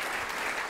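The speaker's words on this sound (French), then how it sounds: "Vous pouvez applaudir le lecteur et le chanteur d'un même coup" Audience applause at a poetry reading with actor Jacques Bonnaffé and poet Jacques Darras at the Comédie de Picardie, a steady dense clapping from a crowd filling a short burst.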